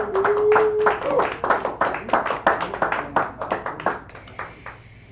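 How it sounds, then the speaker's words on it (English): An open mic poetry crowd in a San Francisco cafe claps for a poet coming up, a loose run of fairly close handclaps with a voice speaking over the start. "So, Philip, come on up here and we will give you a round of applause."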